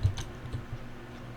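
A powered Minecraft crafter block that produces no output gives off a quiet, low mechanical noise with a few soft ticks and clicks over about a second and a half, with no voices.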